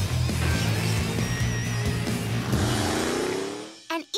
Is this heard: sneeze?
no